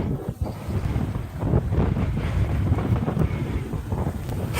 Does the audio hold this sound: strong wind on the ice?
yes